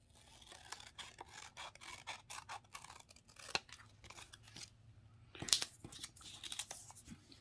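Scissors snip through printed paper sewing patterns for a vintage doll's dress, a close, quiet run of crisp cuts and rustles with brief crinkling bursts.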